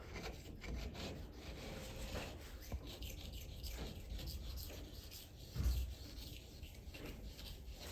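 Deluxe trim on a Citroën 2CV being polished by hand, a close, steady rubbing and scrubbing sound with a short, slightly louder burst near the end, no talking.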